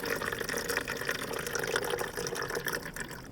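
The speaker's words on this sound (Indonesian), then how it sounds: "Sekarang kita tambah air dulu." Water poured into a container during gold, silver and palladium recovery from laptop mainboard chips, a steady close splashing and trickling fill that continues throughout.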